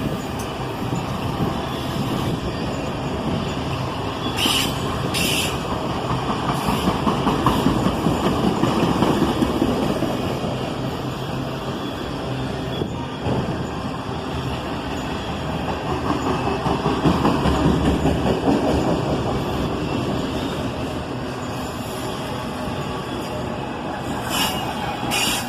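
A long freight manifest train with auto racks rolls past on a main line, continuous rumbling and rhythmic wheel clatter, swelling louder and fading in waves, with occasional faint squeals.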